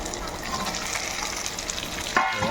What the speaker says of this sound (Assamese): অলপ ফ্ৰাই কৰিব লাগিব প্ৰথমতে ফ্ৰাই কৰি লওঁ